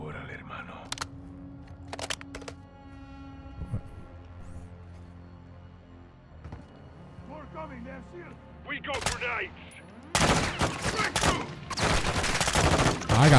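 Sniper rifle fire in Call of Duty Modern Warfare II cracks out as sharp, separate shots amid a prison-break firefight, first spaced apart and then a dense loud burst of gunfire near the end, with game voices underneath.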